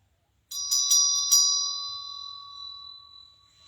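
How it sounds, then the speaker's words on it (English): A small bell rings during an incense offering, a few quick metallic strikes close together, then one long clear tone fading away alone over a low background hum. "Is that bell getting them going?"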